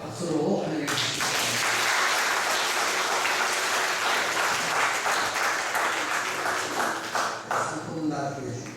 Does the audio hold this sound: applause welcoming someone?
yes